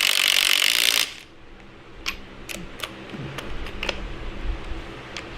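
Ratchet snugging up bolts on a leveling kit for a new Ford F150, a few sharp clicks and metallic ticks close by after a brief loud burst at the start, with no talking.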